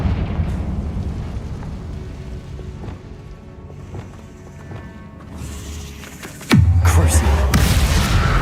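A Confringo spell goes off in a Harry Potter video game, erupting as a loud, sudden blast late on with a sustained roar after it, following busy game sounds and a voice casting spells.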